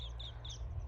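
A few brief high calls from dove-like farm birds, a kind of pigeon, sound over a steady low rumble on farmland, short and moderately clear.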